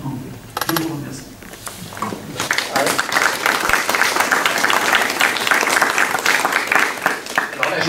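Meeting audience bursts into applause, dense clapping that swells after a brief quieter start and holds steady and loud to the end.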